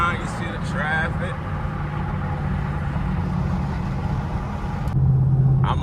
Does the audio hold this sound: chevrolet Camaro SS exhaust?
yes